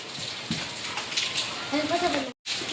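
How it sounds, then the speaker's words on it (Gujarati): Rain falls steadily on a rooftop terrace in a continuous hiss, broken by a brief sharp cutout, while a voice speaks faintly at moments. "કોને કોને વરસાદ છે અમારે છે આજે વરસાદ"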